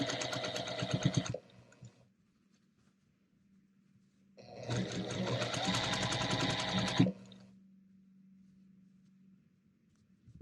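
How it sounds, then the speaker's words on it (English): Sewing machine stitching a row onto a quilt block, two bursts of rapid mechanical stitching separated by a quiet pause with a low hum between. "And then I'm going to take the bottom row and sew it on the same way."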